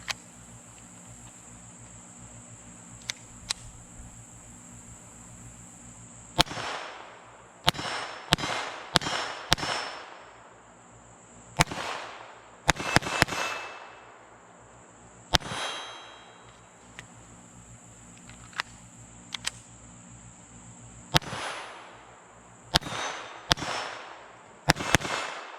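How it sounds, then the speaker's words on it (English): FN 502 tactical .22lr pistol firing bulk Remington Golden Bullets and Federal Auto Match ammunition outdoors: a couple of dozen sharp, cracking shots come in irregular clusters, each one loud and abrupt over a quiet background with insect buzz. "We're shooting mostly bulk pack Remington Golden Bullets and some Federal Auto Match."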